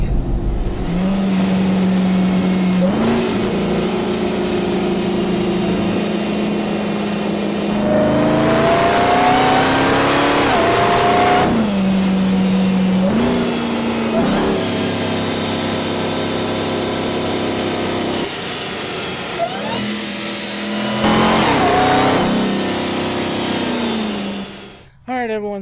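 A 2021 Ram TRX pickup truck's engine accelerating, a loud engine note that repeatedly climbs in pitch through gear changes, then settles before fading near the end, with occasional talk mixed in.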